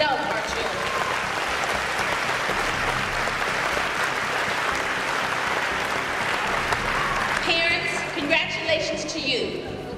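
Audience at a school academic achievement awards ceremony applauds in a dense, steady wash of clapping for about seven and a half seconds, then the applause thins out as other sounds come through.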